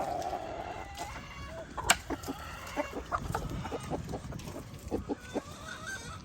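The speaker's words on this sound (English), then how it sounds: "Man, that is a huge rooster" A large backyard rooster clucks in short, repeated bursts at close range over a busy farmyard background, with one sharper peak near the start and steady low rumble beneath.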